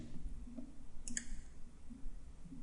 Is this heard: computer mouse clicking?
yes